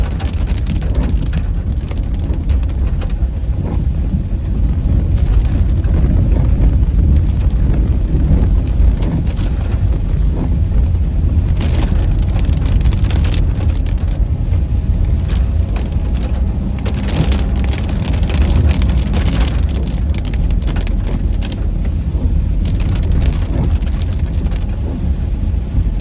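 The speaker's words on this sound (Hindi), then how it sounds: "तेज बारिश हो रही है।" Heavy rain pours down in the hill country while someone walks beneath trees on the way back to a mountain village. A dense, constant hiss sits over a low wind rumble throughout, with no voices.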